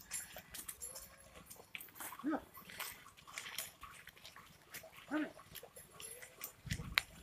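A white dog is heard a few times outdoors in a forest area among goats, its sounds brief and moderately distant over a busy background of rustling and clatter.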